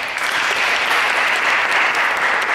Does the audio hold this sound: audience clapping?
yes